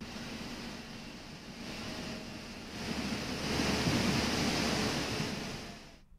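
The Jumma nala stream in monsoon flood in Uttarakhand, after heavy rain, gives a steady, close roar of rushing water that swells in the middle and then cuts off abruptly at the end.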